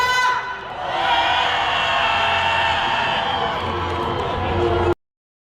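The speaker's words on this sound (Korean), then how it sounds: "다시 한번 힘찬 함성 외쳐보겠습니다" A large crowd at a rally in Daegu lets out a loud, rousing sustained shout of many voices that holds for several seconds before cutting off abruptly.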